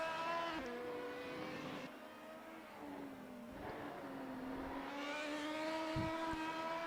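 Race car engines in a racing video game, fitted with a Hayabusa motorcycle engine sound mod, wail steadily at high revs with rising and falling pitch sweeps as gears change, loud and continuous throughout.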